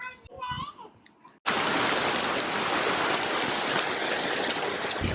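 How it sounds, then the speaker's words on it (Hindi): Outdoor rain on a day of sun and showers during Norway's National Day, 17 May, a steady loud broadband hiss that begins abruptly after a few seconds of voices and then continues unbroken. "यहाँ धूप भी है और बारिश भी हो रही है।"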